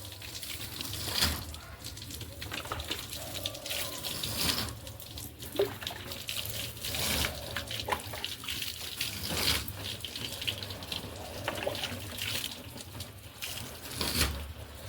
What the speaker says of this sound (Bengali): বালতিটা নিয়ে উঠে পড়ো গে, দিয়ে ঢেলে দাও জলটা ওরকম করে